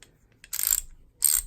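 Gedore torque wrench ratchet clicking twice in short, crisp bursts, close up and fairly quiet, with near silence between them.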